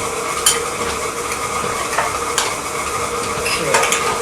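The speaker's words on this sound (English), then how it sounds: "Mix this up a little." A mixture is stirred by hand in a bowl, giving continuous close scraping and swishing strokes with occasional clinks, and no talking.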